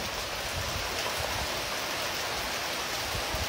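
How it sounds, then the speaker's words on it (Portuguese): Steady rain falls over a town in Macaúbas, Bahia, as darkness sets in, a dense continuous hiss of drops pattering on surfaces with no pauses or voices. "E a chuvinha é constante"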